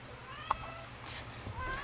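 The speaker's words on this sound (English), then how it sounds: "Oh, and of course my cat comes in." A house cat gives a faint, brief meow or two close by, soft against low background hum and quiet room noise.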